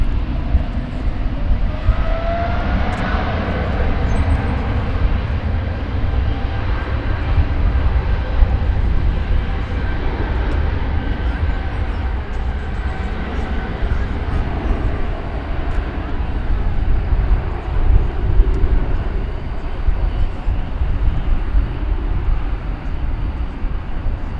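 A large airliner at Dallas/Fort Worth International Airport runs its engines with a steady, broad roar and a faint rising whine, holding constant over a noisy airfield background throughout.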